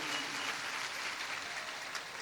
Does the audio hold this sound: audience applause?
yes